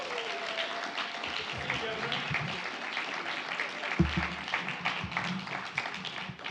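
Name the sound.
audience applause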